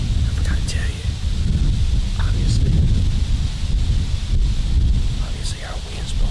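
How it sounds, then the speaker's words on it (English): Steady wind buffets the microphone and rustles leaves throughout, a loud continuous roar outdoors during a bowhunt in North Carolina. "Obviously our wind's blowing this way."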